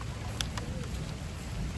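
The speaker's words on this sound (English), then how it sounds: "It's raining." Rain falls outdoors in a steady, soft hiss, with a couple of faint drip ticks over a low rumble, brief and with no talk.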